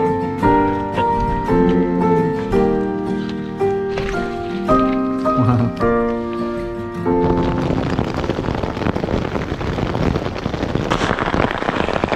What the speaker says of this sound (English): lots of lots of thunder and lightning and heavy rain in the bivouac